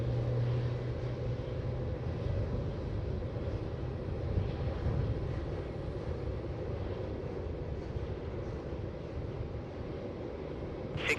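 A United airliner landing at Melbourne Airport gives a steady low, broad jet roar heard from a distance, rumbling evenly throughout with no talk.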